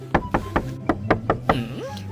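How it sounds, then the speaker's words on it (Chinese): Someone knocks on a door late at night, seven sharp, close knocks in a quick, even rhythm, followed by a short voiced sound at the end. "大半夜的，谁敲门呐？"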